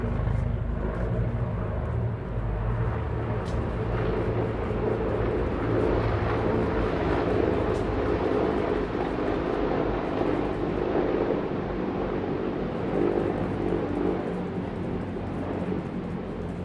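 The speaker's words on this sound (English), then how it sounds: "Now there's helicopters going by." A loud, continuous helicopter drone dominates, holding steady as the aircraft passes nearby, with faint clicks and rustles over it.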